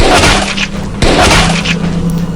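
Loud gunshots go off in a zombie shooter game, one booming blast followed by another about a second later, each over a dense, continuous rumble of game sound, with no voices.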